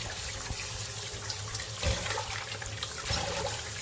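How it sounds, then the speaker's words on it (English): Running tap water pours steadily over Jamaican cabbage being washed in a sink, a constant splashing rush with a few heavier gushes as the leaves move under the stream. "I'm going to show you how I wash and clean and prepare my Jamaican stir fry cabbage"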